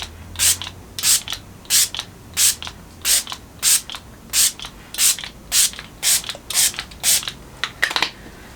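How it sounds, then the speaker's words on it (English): About a dozen short, crisp hissing bursts of makeup setting spray in a quick, even rhythm, close and fairly loud, with brief gaps between each pump. "So I'm going to spray."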